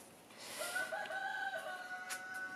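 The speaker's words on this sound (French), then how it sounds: "On entend toujours le coq du voisin qui s'en donne un cœur joie" A neighbour's rooster crows outdoors in a garden, one drawn-out cock-a-doodle-doo at moderate distance, fairly faint against a quiet background.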